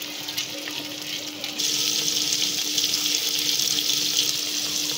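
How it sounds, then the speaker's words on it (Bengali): Onions frying in a pan, a quiet hiss that jumps to a louder, steady sizzle partway through and holds. "পেঁয়াজটা আমাদের ভাজা হচ্ছে।"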